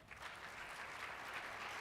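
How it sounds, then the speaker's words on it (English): A conference audience gives steady applause after a speaker is introduced for a lightning talk, a dense, even patter of clapping with no voices over it, faint and distant. "Let's give Adrian a round of applause."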